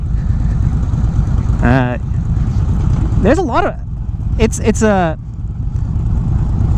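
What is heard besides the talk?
2019 Indian Chieftain motorcycle throaty exhaust in sport mode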